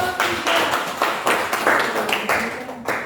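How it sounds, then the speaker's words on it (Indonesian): Brief classroom applause for a student group, several rounds of quick clapping from a small crowd, close and fairly loud, fading out after a few seconds. "beri aplaus untuk kelompok 3"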